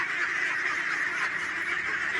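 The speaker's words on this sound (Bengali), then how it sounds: "দেখেন কত সুন্দর হাঁস দেখেন হাঁসগুলো" A dense chorus of many ducks quacking and honking continuously, a busy flock penned with netting on a riverbank, close by with no pauses.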